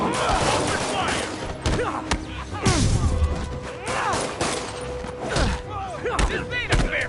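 Gunfire from enemies in the Spider-Man PS4 video game, a dense barrage of sharp cracks and thuds mixed with a heavy impact around the middle, with game voices talking over the combat.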